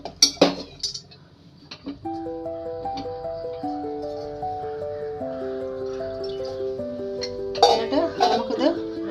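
A spoon clinks and scrapes in a pan while stirring tender raw mango pickle, with sharp clatter at the start and end and a soft melodic tune in between.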